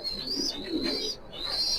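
Pigeons coo in soft, low, repeated calls close by, with a steady high tone running through the background.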